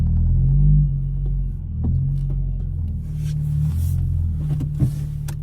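A car being moved from a spot parked a bit far away to another parking spot, heard from inside as a low steady engine rumble with a slight swell, close and fairly loud, no talking.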